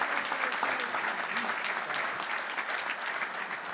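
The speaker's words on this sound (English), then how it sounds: "can we give a round of applause to Anthony for what he's done for the past 2" A crowd at a youth sports volunteer recognition event applauds warmly, dense continuous clapping that stays steady for a few seconds before beginning to thin.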